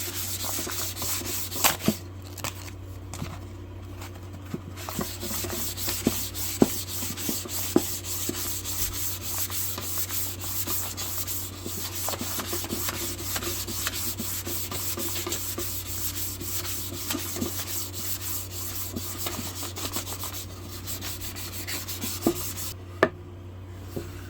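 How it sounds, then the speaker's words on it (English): Sanding a handmade wooden gunstock war club by hand, a steady, close rubbing and scraping that runs continuously with small uneven strokes and occasional knocks, no talking. "Alright, I'm going to get this sanded down one more time."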